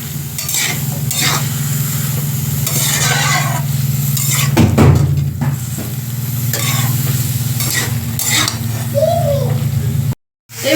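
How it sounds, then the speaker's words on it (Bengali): Cauliflower stalks with mustard sizzle and fry in a pan, a continuous close hiss with repeated scraping stirs of a spatula, a low hum running underneath and a brief silent gap near the end. "এবারে ভালো করে কষিয়ে নেব।"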